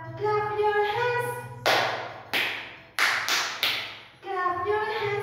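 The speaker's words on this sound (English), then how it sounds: "Clap your hands with me." Four loud, close hand claps sound at a steady pace in time with a children's song, set between a singing voice at the start and end and a quiet musical backing.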